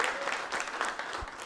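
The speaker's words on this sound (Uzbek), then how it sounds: "Sizlar bekor bunga kam qarsak chalyapsizlar." Studio audience at an Uzbek talk show applauds a guest: steady, dense clapping from many hands fills the whole moment, fairly close and even in loudness, with no speech over it.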